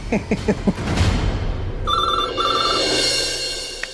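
A telephone rings loud and close in a Hindi TV drama, with repeated electronic bell-like rings after a brief burst of talk at the start.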